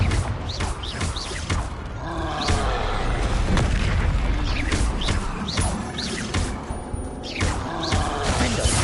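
Repeated Confringo blast spells exploding in the wizarding game Hogwarts Legacy, a loud series of booming bursts and crashes landing every second or so amid busy combat noise.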